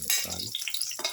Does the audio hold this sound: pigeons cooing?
no